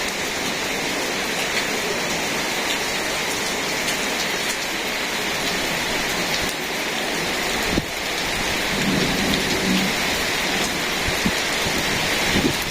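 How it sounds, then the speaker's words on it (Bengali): Heavy rain pours steadily and loudly during a thunderstorm blowing in from the north-west, a dense continuous hiss with a brief rumble of thunder partway through. "তো ঝড়টা পশ্চিম দিক থেকে আসছে,"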